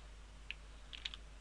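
A few faint, sparse keystrokes on a computer keyboard in a quiet room, with a single click followed by a short cluster of taps near the end.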